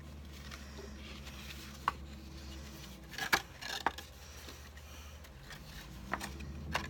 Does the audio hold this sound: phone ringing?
no